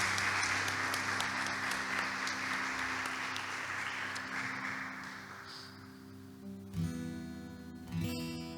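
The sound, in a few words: congregation applauding in church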